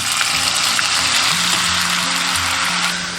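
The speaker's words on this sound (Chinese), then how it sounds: "炒香后下入酸菜" Sauerkraut stir-frying in hot oil with scallion, ginger and garlic in a clay pot, a loud, continuous hiss with faint scraping under soft background music.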